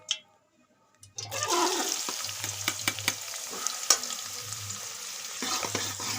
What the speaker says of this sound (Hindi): अब घी हमारा गर्म हो चुका है। अब इसमें हम प्याज डालेंगे